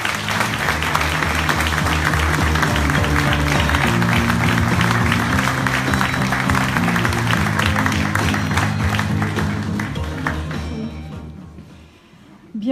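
A room full of people at a political campaign launch applauds steadily and loudly, then the clapping thins out and fades away.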